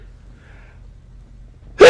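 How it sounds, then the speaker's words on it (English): A single sudden sneeze bursts out loud and close after a stretch of near silence. "I got to sneeze"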